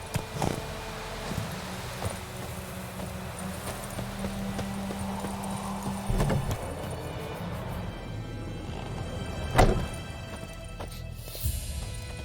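Horse hooves trot in The Witcher 3 as the horse is ridden along, a steady clip-clop rhythm running under game ambience and music, moderately loud, with a sharper thud near the end.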